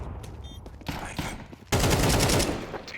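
Gunfire in a video game replay: a few scattered shots are followed by a sudden loud, sustained spray of rapid automatic fire that continues to the end.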